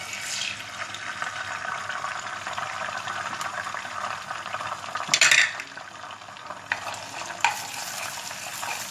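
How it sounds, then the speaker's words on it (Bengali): An egg goes into a hot pan for Chinese fried rice and fries, a steady close sizzle broken by a sharper burst of spitting and a few stirring scrapes. "আমার এটা গরম হয়ে গেছে, এখন আমি একটা ডিম দিয়ে দিচ্ছি।"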